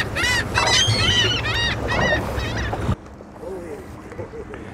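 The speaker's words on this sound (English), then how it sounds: "So now you're feeding some of the birds." Geese or similar fowl honk repeatedly and loudly at close range while being fed at Haulover Inlet, then the calls stop abruptly and only faint background remains.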